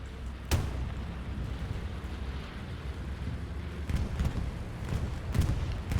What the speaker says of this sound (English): Bombing run coming in for the Axis, or for the Allies here.